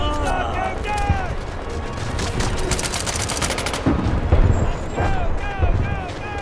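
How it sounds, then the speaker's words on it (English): Heavy machine gun fire and explosions rage through a World War II battle in Medal of Honor: Above and Beyond, with dense rapid bursts and booms that swell and surge, while shouted voices carry over the din. "How are there even this many bullets in the world?"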